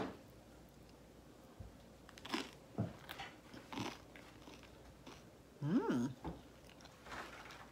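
Tofurkey deli slices being eaten up close, with a few soft, moist bites and bursts of chewing spread irregularly across a quiet room, and no talking.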